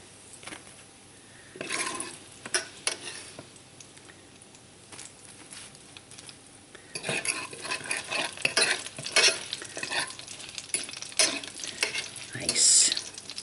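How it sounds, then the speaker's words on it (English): Bacon crisping in a pan while pieces are lifted out, with bursts of sizzling and scraping or stirring that come and go, louder in the second half. "Boy, a pound of bacon sure does fry up to not much bacon."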